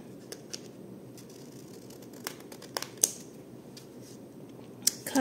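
Scissors cut paper while making a handmade envelope, giving sparse, crisp snips and small clicks at irregular moments over quiet room tone. The last few cuts come in a brief cluster.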